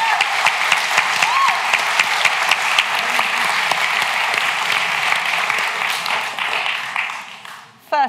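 Sustained applause from an audience in the Cambridge Union debating chamber, dense steady clapping for about seven seconds that fades toward the end, ending with a brief sharp sound.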